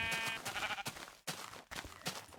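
Sheep bleating in an old beta version of Minecraft: several close, wavering bleats in a row, separated by short gaps.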